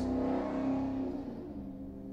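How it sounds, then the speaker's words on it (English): A loud car drives past on a city street outside, its engine roar swelling and then fading away over about two seconds. "sometimes there's loud cars passing by"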